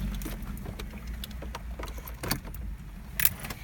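Car key being inserted into the ignition slot of a BMW E90 330i with an N52 engine, with light jangling and small clicks over an engine hum, then a sharper click near the end.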